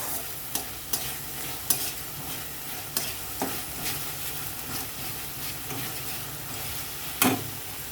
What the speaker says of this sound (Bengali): এটাকে ভালো করে নেড়ে চেড়ে